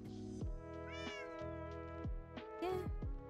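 Cats meowing in Minecraft, with several quick, rising and falling meows in close succession, faint and alone without talk.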